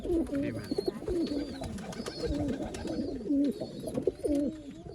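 Pigeons cooing at an old-line pigeon sale in Bangalore, with layered throaty coos repeating steadily and close by, and faint higher chirps above them.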